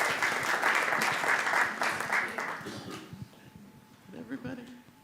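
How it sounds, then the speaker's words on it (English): A church audience applauds warmly after a comedy performance, a dense burst of clapping that fades out midway, followed by light murmuring talk and scattered room noises. "Clap for them because they did a great job."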